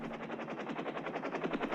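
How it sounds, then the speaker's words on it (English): Military helicopters over rough Korean War terrain, a loud, close rotor chop pulsing in a fast, steady rhythm with no pauses. "The helicopters are a godsend in this type of terrain"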